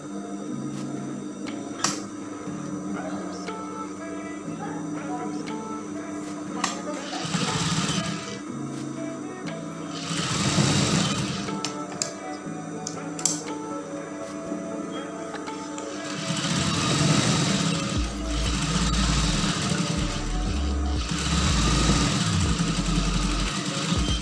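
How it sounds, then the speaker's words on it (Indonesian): A sewing machine stitches a brocade dress combined with plain fabric in a cut-waist style, giving a steady close motor whir with short surges and pauses throughout, with no talking. "Dan ini kita jahit."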